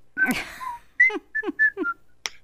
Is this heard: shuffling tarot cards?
no